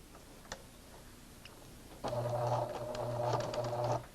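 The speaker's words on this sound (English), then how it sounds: "I am going to sew this complete skirt with a contrasting thread" A sewing machine runs in a steady close whir for about two seconds while stitching a dart in a skirt with contrasting thread, after a quiet stretch with a couple of faint clicks.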